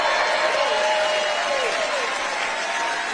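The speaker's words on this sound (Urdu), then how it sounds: "جس پر مجمع نے خوب تالیاں بجائیں" A crowd applauds loudly for the press secretary at a Trump event, sustained clapping throughout with voices talking over it.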